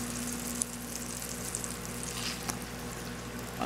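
A single slice of French toast bread sizzles in a pan over low to medium heat, a dense, even hiss that holds steady from start to finish with only a few faint clicks.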